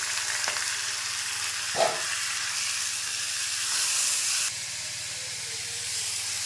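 Rice tipped into hot oil with fried tempering spices hisses in a steady, close sizzle, with a brief clatter near the start and a louder burst of steam midway before it settles back to an even fry.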